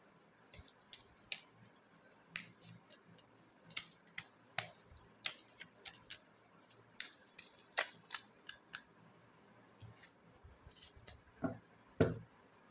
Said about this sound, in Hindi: मैं उनके लिए शफल कर रही हूँ।